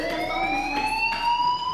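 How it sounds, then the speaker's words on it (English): A fire alarm going off in the video game Life is Strange, a loud, steady, slowly rising electronic wail with bright harmonics that runs continuously throughout. "Hey, do you hear that fire alarm?"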